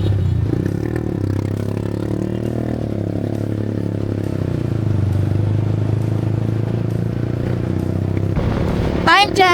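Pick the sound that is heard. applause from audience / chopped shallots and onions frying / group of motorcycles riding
group of motorcycles riding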